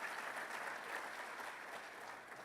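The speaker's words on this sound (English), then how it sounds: "ladies and gentlemen, a round of applause for our students and to thank their sponsors" Audience applause for students and their sponsors at a congressional update luncheon, a steady, dense clapping from a roomful of people, fairly quiet and even throughout without any talk.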